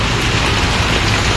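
Heavy rain pours steadily during strong wind, a dense, loud, continuous hiss and patter close by, with no pauses across the short stretch.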